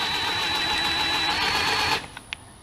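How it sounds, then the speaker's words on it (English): A power driver whirs steadily as it runs a self-tapping screw into the metal housing of a Troy-Bilt Super Bronco tiller, a loud continuous buzz that stops abruptly near the end, followed by a couple of small clicks. "I'm going to run me a self-tapping screw right down in here"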